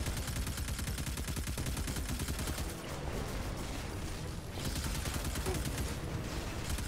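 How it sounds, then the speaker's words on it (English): Dense, continuous gunfire from a Destiny 2 firefight on the Io planet, rapid automatic bursts and explosions layered loudly throughout with a brief dip midway, while a player talks faintly underneath. "So it is doing a lot of shooting."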